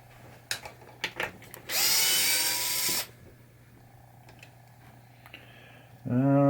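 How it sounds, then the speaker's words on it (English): A power screwdriver whirs in a sustained burst while removing screws from the slingshot assembly of a 1986 Gottlieb Hollywood Heat pinball machine, with clicks and handling taps before and a second tool spin at the end. "So now we got to take out, I believe it's 4 screws."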